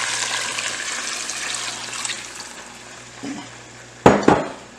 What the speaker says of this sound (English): I'm going to add some water here.